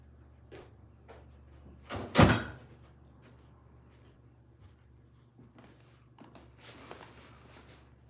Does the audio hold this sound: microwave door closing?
yes